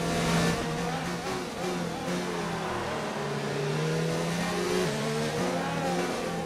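Formula 1 car engine in the F1 2019 video game at the British Grand Prix, a continuous loud high-revving whine with shifting pitch and wheelspin, close and sustained.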